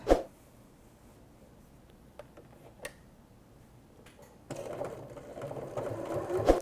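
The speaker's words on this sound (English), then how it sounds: "I've completed that step of sewing all the way around the top perimeter of the bag" A Janome sewing machine stitches around the top edge of a tote bag, starting with a few scattered clicks and then settling into a steady, continuous whir that grows slightly louder toward the end, close up with no talking.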